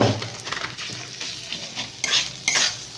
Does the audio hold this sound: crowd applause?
no